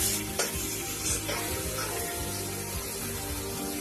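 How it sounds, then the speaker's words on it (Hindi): Tomatoes are added to garlic and ginger frying in a pan, giving a loud continuous sizzle with occasional stirring scrapes close by. "लहसुन अदरक की भुनने के बाद 2 मिनट हम इसमें टमाटर डालेंगे"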